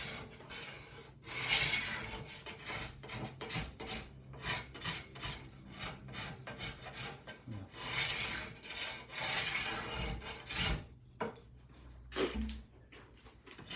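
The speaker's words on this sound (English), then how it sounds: "this goose scraper is really nice" A goose scraper shaving a wooden bow limb in short, repeated rasping strokes, dry and scratchy, close up and fairly quiet, with brief pauses between bursts.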